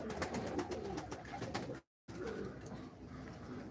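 Pigeons coo steadily in a noisy enclosure at a live pigeon auction, with soft rustling throughout and a brief dropout in the middle.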